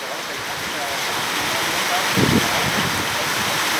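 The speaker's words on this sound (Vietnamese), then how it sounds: "Mưa rồi mưa không dứt." Constant heavy rain drums down on a building site where a newly built wall is being covered, forming a loud, unbroken wash of noise with a brief knock partway through and voices faintly underneath.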